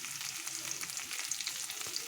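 Dry chilies fry in hot oil, a steady, quiet crackling sizzle with fine popping throughout.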